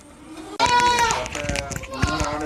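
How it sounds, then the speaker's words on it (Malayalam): Malabari goats at a goat farm in Kottakkal, Malappuram, bleating in loud harmonic cries after a sudden onset, several calls overlapping close by with farm noise underneath. "അപ്പോൾ ഇതാണ് ഇവരെ ആടുകൾ."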